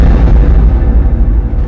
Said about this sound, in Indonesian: Tak berapa lama kemudian ada bombardir dari Belanda. Ya, meledak kapal kita.